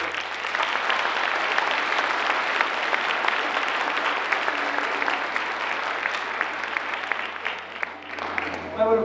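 Audience at an elementary school winter concert clapping, a loud, dense, sustained round of applause from a large crowd that tapers off at the end.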